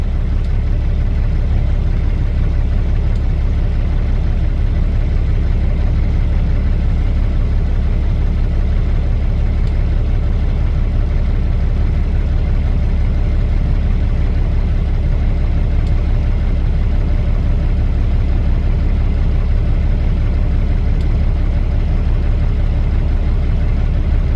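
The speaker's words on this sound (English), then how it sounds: "That's my favorite truck here, the blue flat top." A blue flat-top truck's engine idles without a break, a loud low steady rumble that holds even for the whole span with nothing else over it.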